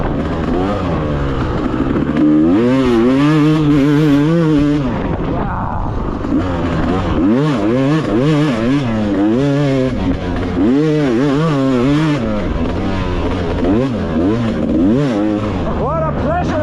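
A Yamaha YZ250X dirt bike engine revs hard again and again, its pitch climbing and falling in quick, loud surges that run continuously up close.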